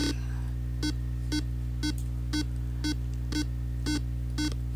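Electronic buzzer alarm set off by an analog sensor, sounding as nine evenly spaced short beeps about half a second apart over a steady low hum, moderately loud with no talk.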